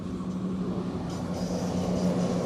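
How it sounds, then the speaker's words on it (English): A steady low rumble of a train rolling past at a moderate distance near Burntisland, continuous and even throughout with no voices. "We got a train going past."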